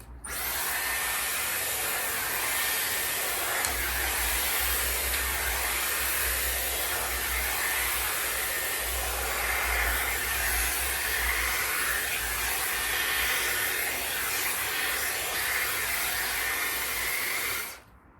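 A Dyson Airwrap multi-styler blows air in a continuous loud whooshing hiss with a low motor hum, running steadily for about eighteen seconds before cutting off at the end.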